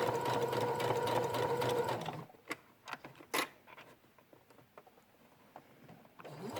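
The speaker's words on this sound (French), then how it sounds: "pour pouvoir piquer au plus près possible de la fermeture" A sewing machine stitching close to a zipper on a flared skirt runs loud and steady for about two seconds, then stops, leaving soft handling clicks and rustles.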